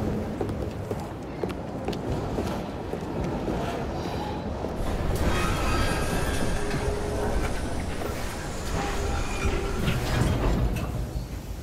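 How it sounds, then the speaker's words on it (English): A train rolls along rails in the video game Assassin's Creed Syndicate, making a steady, close, loud rumble with faint clatter that swells slightly midway and lasts throughout, with no voices. "at least we have a train now"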